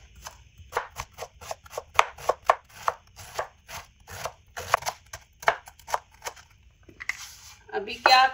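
Rapid knife chopping of bitter gourd (karela) into small pieces on a cutting board, a dense run of sharp close taps in uneven bursts, ending with some rustling handling.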